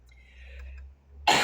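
A single sharp cough bursts out near the end after a faint, quiet lead-in.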